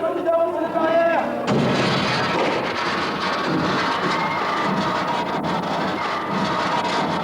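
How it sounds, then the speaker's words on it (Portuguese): Loud explosions and blasts ring out during night-time street clashes between university students and police in Bordeaux, a dense continuous roar of bangs and crackling debris with no clear pauses. "Entre explosões e estilhaços, pelo asfalto, ficaram 20 feridos."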